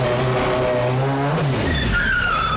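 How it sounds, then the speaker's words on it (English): A car spinning a donut with its tires squealing and burning rubber during a stunt driving demonstration, the engine revving loudly and dropping in pitch as high, wavering tire screeches rise and hold to the end. "I love your little donut there, burning lots of rubber."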